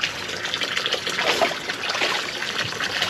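Water pours steadily into a swimming pool with a continuous splashing gush at moderate loudness.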